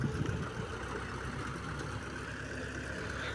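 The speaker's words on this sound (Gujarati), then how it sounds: "સામે આપણે ટ્રેક્ટર છે" A tractor engine runs nearby at a steady low idle, a constant rumble without change.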